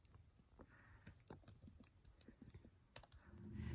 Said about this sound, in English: We are now typing our caption